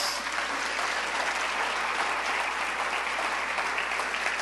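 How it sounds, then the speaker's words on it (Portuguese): A church congregation claps together in loud, dense, sustained applause that fills the whole stretch evenly. "Você pode aplaudir o que o Senhor está fazendo entre nós?"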